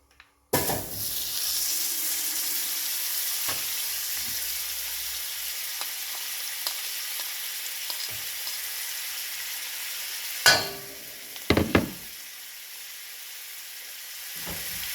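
Butter melts and sizzles in a fresh pan before spinach goes in, a steady close crackling hiss that carries on evenly, broken near the end by a few sharp clanks of the pan and utensils.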